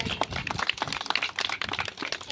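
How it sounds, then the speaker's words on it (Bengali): Audience applause at an evening music event, a scattered patter of clapping hands that stays fairly faint and thin, with no voices over it. "একটা জোরে হাততালি হয়ে যাক।"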